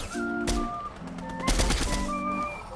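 Gunfire in the video game Fortnite comes as short, sharp bursts spread across a few seconds over bright, whistling game music tones.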